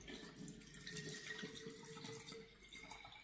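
Steady stream of water running and splashing as it is poured into the tank of a semen-thawing thermostat unit, continuous and close, with no talking.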